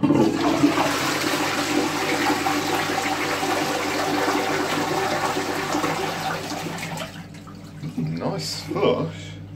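An older Ideal Standard Alto toilet in a pub flushes loudly and close by, a steady swirling rush of water that tapers off into quieter trickles and refill gurgles.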